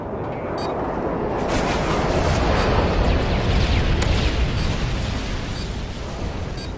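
Bombs exploding after a bomb run in a video game, a loud continuous rumbling barrage of blasts that builds and sustains for several seconds, dense and close with no clear gaps.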